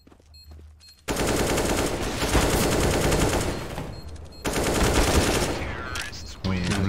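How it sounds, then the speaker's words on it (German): Rapid automatic gunfire from the video game CS:GO rattles in two long, loud bursts separated by a short pause, with faint game sounds before and after. "Letzten Schuss im Magazin hab ich den erwischt."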